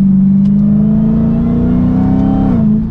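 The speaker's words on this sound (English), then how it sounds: "And a quick mild acceleration from third gear there." Dodge Challenger SRT Hellcat Redeye with a V8 engine in track mode, accelerating from third gear: a loud, steady, close engine drone that rises gradually in pitch, then eases off at the end, with no talking.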